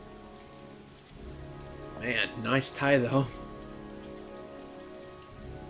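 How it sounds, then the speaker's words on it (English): Rain falls steadily in Heavy Rain, a soft continuous patter in the background while someone speaks briefly over it in the middle. "But it's rainy."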